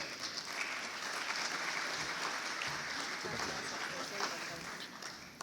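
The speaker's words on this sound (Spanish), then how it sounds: "Los aplausos para ella." Sustained applause from a conference audience as a speaker, a data-policy specialist, is called to the stage, a dense steady wash of clapping with some talk mixed in.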